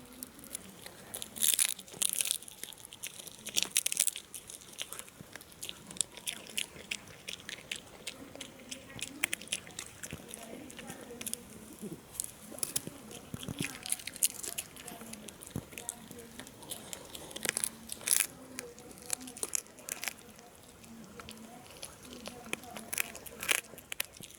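Animals chewing and smacking wetly, recorded up close at a holiday morning routine, with steady crunchy bites and crinkling packaging sounds running throughout, and a voice talking over parts of it.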